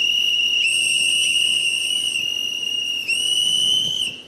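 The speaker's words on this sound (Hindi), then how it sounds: "सीटी बजाइए।" A studio audience at a reality TV show whistles loudly in a sustained, piercing, shrill chorus that drops out briefly and returns, with no talking.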